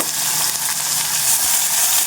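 Chopped onions frying in a pan with fennel seeds and curry leaves, a steady close sizzle and crackle of oil throughout with no talking.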